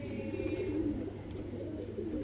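Pigeon cooing close by, low rhythmic coos repeating through the whole stretch over a steady background hum, from a domestic pigeon kept by a fancier in Allahabad.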